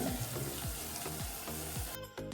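Onion-garlic masala sizzles steadily as it fries in butter for dal makhani, with a continuous close crackle and a few soft stirring scrapes.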